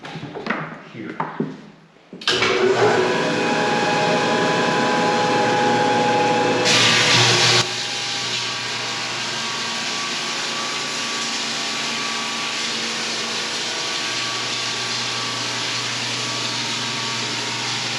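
A floor sander working a wooden floor in a semi tiny home starts up after brief talk and runs as a loud, steady drone with a harsh burst partway through, continuing alone to the end.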